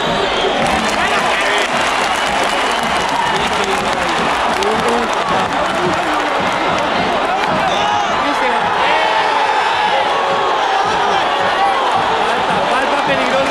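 Large football stadium crowd at a Nacional versus Tolima league final, cheering and applauding in a dense, continuous roar with whistles and shouts throughout, loud and steady.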